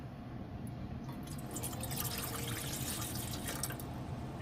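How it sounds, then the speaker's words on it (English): Water poured into a cooking pan on a stove, a steady splashing, trickling stream heard close and moderately quiet for several seconds with no talk. "we're going to pour in our water"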